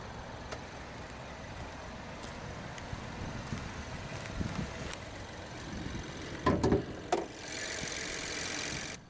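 A 2021 Buick Encore GX Essence with GM's Ecotec 1.3-liter turbocharged inline-three running, a low steady engine rumble close by with a few mechanical clicks and a brief rise in hiss near the end.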